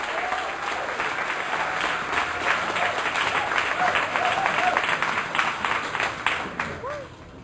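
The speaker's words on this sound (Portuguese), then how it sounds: "dê um grito de júbilo e dê um aplauso forte ao Senhor" Strong congregational applause fills a church service, a dense steady wash of many hands clapping at close range, with cheers and shouts mixed in before it thins at the end.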